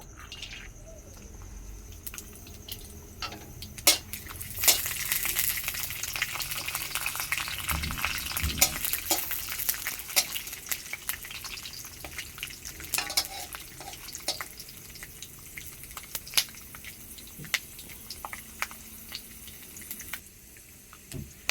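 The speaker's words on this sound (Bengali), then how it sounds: "আমি বাদাম রেখেছি, বাদামগুলো ভেজে নেব" Peanuts fry in hot mustard oil in a wok, a steady close sizzle running throughout with scattered crackles and pops and a few louder scraping bursts near the start.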